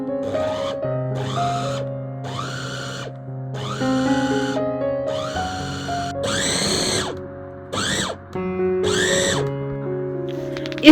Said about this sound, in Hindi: इस चॉपर में मक्खन निकालते हैं